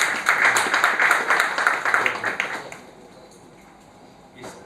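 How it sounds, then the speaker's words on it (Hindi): An audience claps in welcome for a former DRDO Director General and BrahMos Aerospace CEO at a formal meeting. A fairly loud, dense burst of applause lasts about three seconds, then fades to quiet room tone. "इस तालियों के ध्वनि में सर सूरत का प्यार आपके प्रति व्यक्त होता है."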